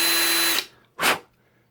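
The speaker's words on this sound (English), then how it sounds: "I'm allowing myself to get those edges of the rivet without drilling down too far." A small power drill bores out a rivet on a Hot Wheels diecast car, a steady close whine for about half a second, then a short second burst after a pause.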